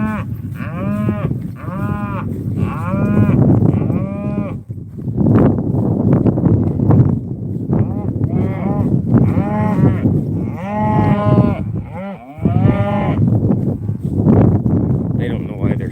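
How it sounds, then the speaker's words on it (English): Cattle on a ranch bawling loudly, with many long overlapping moos from a herd close by, a voice talking among them. "They're just being cows."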